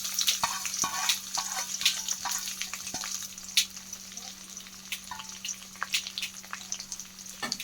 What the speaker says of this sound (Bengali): এগুলোকে একসঙ্গে ভেজে নেবো